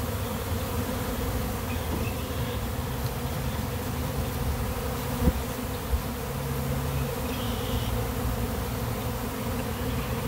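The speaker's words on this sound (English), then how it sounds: "That's a lot of bees." A dense, steady buzzing of a large bee swarm fills the air continuously, with a couple of faint knocks partway through and no voices.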